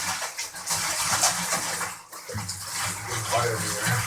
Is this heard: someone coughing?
no